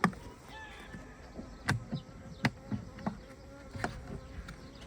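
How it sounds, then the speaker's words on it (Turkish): Dense buzzing of a honeybee swarm being caught fills the air, a steady swarm drone with individual bees zipping close past now and then. "Gerçekten her tarafı arılar kaplamış."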